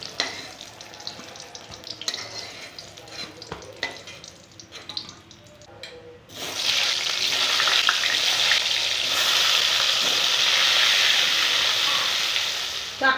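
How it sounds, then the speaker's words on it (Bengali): Eggplant slices fry in oil with a softer crackling and a few utensil clicks, then a loud, steady hissing sizzle surges up and holds close to the end. "এইভাবে সব বেগুনগুলো ভেজে নেব।"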